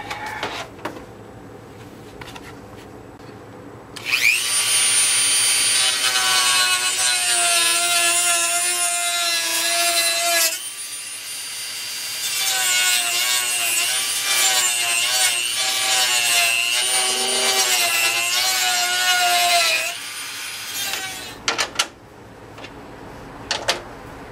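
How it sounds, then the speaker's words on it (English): Dremel rotary tool cutting an L88 hood to make it fit, a loud close high-pitched whine in two long bursts with short breaks between, then a few brief clicks at the end. "we're just going to take the Dremel"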